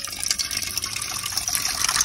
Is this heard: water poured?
yes